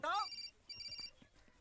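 A telephone rings in an Indian film, one short, bright electronic burst and then a fainter second one, with voices talking around the ringing.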